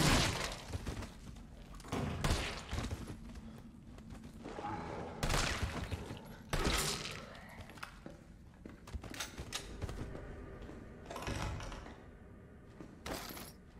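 Gunfire in Resident Evil 3 Remake: irregular loud shots, some in quick pairs, spaced across the clip with quieter ambient rumble between them.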